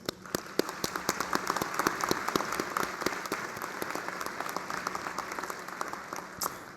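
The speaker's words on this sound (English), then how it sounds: "can we clap it up for these graduates?" Graduation-ceremony audience clapping, fairly sparse and distinct, individual sharp claps scattered at a moderate level like a small spread-out crowd, continuing steadily for several seconds without talk.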